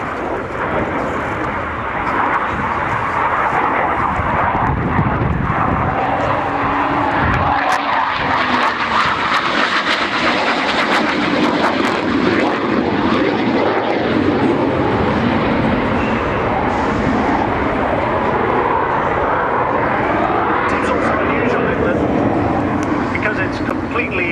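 A Hawker Hunter jet flies at the RIAT 2011 airshow, a loud sustained roaring engine rumble across the whole stretch, steady and close, with a voice talking over it.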